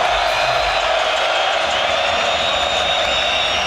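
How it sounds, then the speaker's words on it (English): An Israeli crowd at a EuroBasket basketball game against Germany roars steadily as fans do the wave, a dense, sustained cheer filling the arena at high volume. "Israeli crowd now going through the wave."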